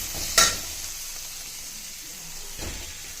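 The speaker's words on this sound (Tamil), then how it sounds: "இப்போ ஒரு வதக்கிட்டு இதில் இட்லி ஆட் பண்ணிக்கலாம் ஃப்ரெண்ட்ஸ்" Idli pieces frying in a pan with garlic and chilli powder, a steady low sizzle with two brief louder bursts of stirring near the start and end.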